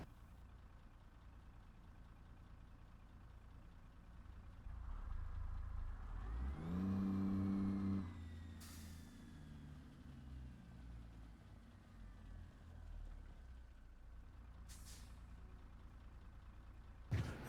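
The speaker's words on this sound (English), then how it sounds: "I want to see how loud the engine is." A truck engine in American Truck Simulator holds a low, quiet idle, briefly revs up and drops back to a steady hum. A couple of faint clicks follow near the end.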